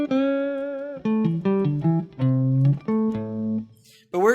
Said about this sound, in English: there's a way we could bend the minor thirds, and then we'd have that bluesy sound like this